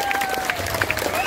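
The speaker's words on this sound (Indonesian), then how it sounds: "Tepuk tangan dumun iki buat penyangga duene." Brief burst of audience applause at a comedy show, clapping mixed with crowd murmur, with a faint voice under it.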